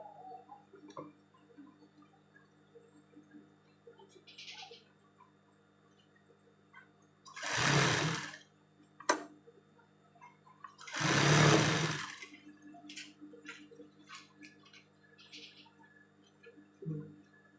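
A sewing machine stitches ruffles onto the edge of a bedsheet in two loud, steady bursts of a few seconds each, separated by quiet pauses with faint handling clicks and no talk.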